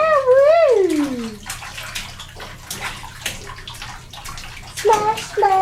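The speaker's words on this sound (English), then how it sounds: "Splish splashing in the bath." Child splashing and sloshing water in a bathtub with toys, intermittent close splashes under squealing and an adult's sing-song talking throughout.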